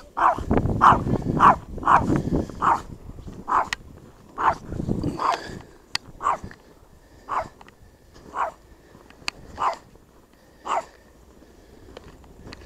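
A German shepherd and another dog attacking a chihuahua outdoors: repeated sharp barks and yips in an irregular series, dense and overlapping at first, then spaced out and fading somewhat, with small whimpering sounds between.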